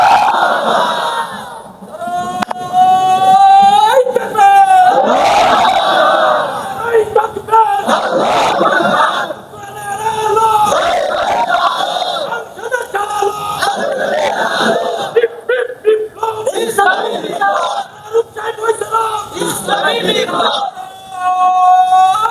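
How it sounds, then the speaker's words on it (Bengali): A large crowd at a Bangla Islamic waz gathering shouts takbir in unison, loud repeated waves of massed voices answering a lead voice, swelling and falling in rhythm. "এই যে মাশাআল্লাহ একটা সুন্দর তাকবীর হয়েছে"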